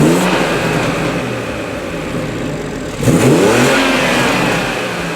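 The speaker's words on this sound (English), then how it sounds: "It's pretty like tame induction noise." A BMW F30 with a B58 engine and an MST Performance intake revs up steadily with a low intake roar, surging louder around the middle before holding at a strong, even drone.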